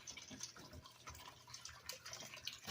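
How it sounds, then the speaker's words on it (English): Water is poured into a dog's food bowl, a short, close, gurgling splash and trickle of liquid onto dry food, quiet and uneven. "so I'm gonna add some water to their food."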